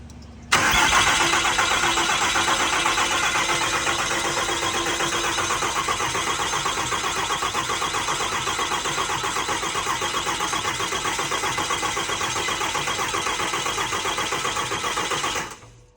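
A 6.4L Cummins diesel engine cranks continuously for about fifteen seconds without catching, a loud, steady, rapid whirring churn that cuts off abruptly.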